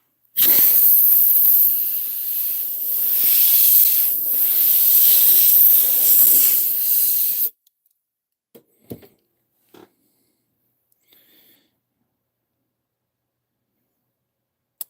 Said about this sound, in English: Did I turn on the air compressor?